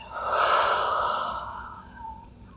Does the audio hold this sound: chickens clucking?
no